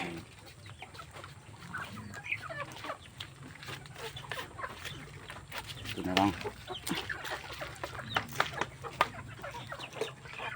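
Farm chickens clucking at feeding time in a coop, with a busy flock of near and far clucks and calls, while people talk quietly underneath.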